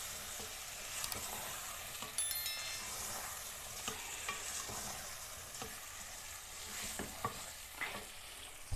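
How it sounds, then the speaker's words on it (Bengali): Meat and a generous amount of onion frying in a pan for a Kolkata-style kosha mangsho, stirred continuously: a soft, fairly quiet sizzle with scattered scraping taps of the spatula, heard close with no voices. "এরকম নাড়তে থাকতে হবে।"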